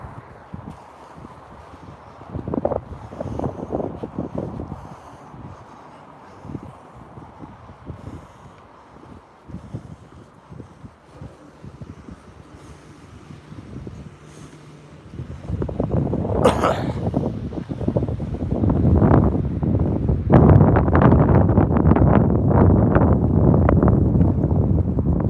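Strong wind gusts buffeting a microphone outdoors beside a small pond on a walk, light at first and then a loud, sustained roaring rumble for the last ten seconds.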